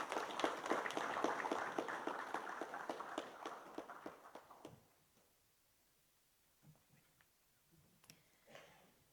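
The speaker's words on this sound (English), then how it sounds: "can I ask that we give another round of applause, please?" Conference audience applause at a leaders' summit opening session, fairly loud and rhythmic for about five seconds before fading out, leaving near silence with a few faint scattered sounds.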